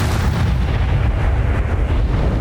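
Repeated spell blasts in Hogwarts Legacy on Nintendo Switch, heard as a loud, continuous low rumble of booming explosions that overlap with no gaps and no speech.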